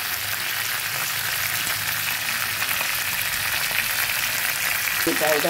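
Steady oil sizzle of ginger frying in a pan, a continuous crackling hiss throughout with a brief stir near the end.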